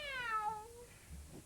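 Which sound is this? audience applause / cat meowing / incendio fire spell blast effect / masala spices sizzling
cat meowing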